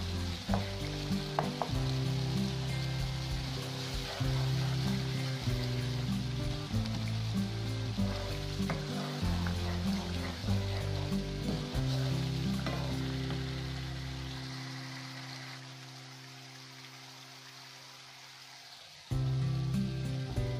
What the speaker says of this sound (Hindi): और मसाले को भुनने देंगे जब तक कि तेल अलग हो जाए मसाले से।